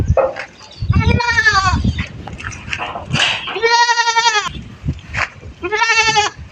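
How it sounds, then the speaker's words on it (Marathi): A goat with her two kids bleats repeatedly in loud, close, quavering calls, separated by short pauses filled with rustling and faint farmyard noise. "तर आता दोन पिल्ले झालेली शेळी दाखवतो तुम्हाला"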